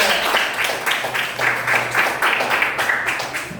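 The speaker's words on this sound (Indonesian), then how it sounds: "Tepuk tangan untuk kelompok kita" A classroom applauds a student group, a brief burst of many hands clapping in an even, fluttering wash that holds steady for a few seconds.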